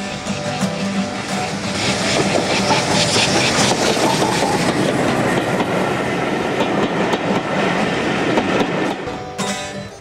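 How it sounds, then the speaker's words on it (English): A steam locomotive train rumbles past with steady rolling clatter and clickety-clack of wheels on track, loud and close, fading near the end. "it's got a lot of sort of through traffic for steam locomotives"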